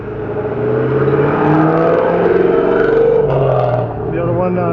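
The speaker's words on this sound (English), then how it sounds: "let that car go" A car passes along the road nearby, its engine whirring up and swelling to a roar before easing off, with a voice talking faintly underneath.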